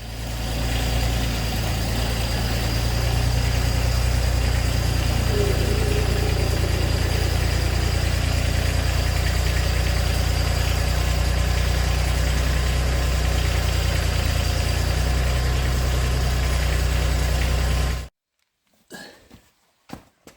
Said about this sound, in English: So I'm going to start the tractor up